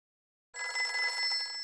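A mobile phone rings in a home, a steady electronic ring that starts after a short silence and continues loud and close with no talk over it.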